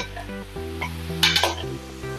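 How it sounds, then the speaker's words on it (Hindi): Poha snacks deep-frying in hot oil while being turned and shaken in the pan, a steady sizzle with a brighter burst of bubbling and utensil scraping midway, close and moderately loud. "ऐसे पलट के इसको तलना है।"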